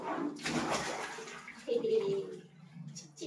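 Water splashes and sloshes in a Labrador puppy's bath tub at close range, with people talking softly over it.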